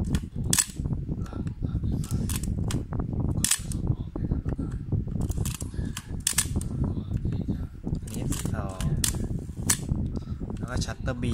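A film camera with its lens removed and the shutter speed set to 1/1000 fires again and again, giving sharp mechanical clicks and snaps at an irregular pace, close up, with someone speaking between them.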